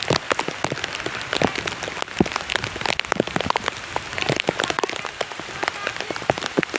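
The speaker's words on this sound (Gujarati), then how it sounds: "ખતરનાક વરસાદ આવી રહ્યો" Heavy rain pours steadily during a storm, a dense close patter of drops hitting a surface without letup, with no voices.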